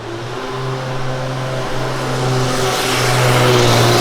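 A truck on a street in Richmond, Kentucky drives past with its engine revving, a steady droning hum that swells gradually louder and closer over a few seconds, with no talk.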